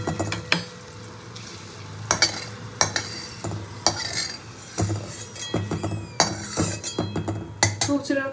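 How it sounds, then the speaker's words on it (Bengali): Fish coated in a mustard, cumin and green chili paste frying in a pan, with steady sizzling broken by repeated sharp metal clinks and scrapes of a utensil stirring close by. "মাছের মশলা যখন হয়ে গেছে মাছটা আগে চাপিয়ে দিই"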